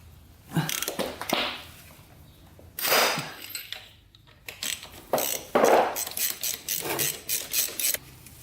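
A wrench works the big oil drain plug bolt loose on a dirt bike, giving bursts of metallic ratcheting clicks and creaky turning in several spaced rounds, close and fairly loud with no talking.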